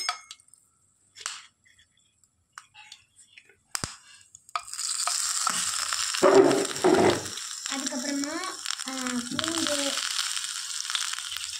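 Green chilies dropped into hot oil for mutton biryani, starting a steady loud sizzle after a few quiet clinks and taps, with a voice talking over the frying.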